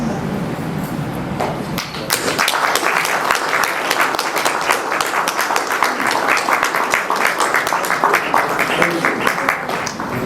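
Audience at an anniversary celebration for REED Nepal, a rural education and environment organisation, breaking into sustained applause after a brief murmur of voices, dense clapping holding steady and loud for several seconds.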